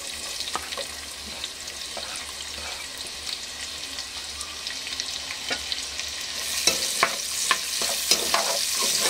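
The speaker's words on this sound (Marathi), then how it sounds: "आता मी तेलामध्ये कांदे टाकते" Sliced onions stir-frying on high heat in hot oil, a steady dense sizzle with scattered crackles and pops that grow sharper and louder toward the end, no voices.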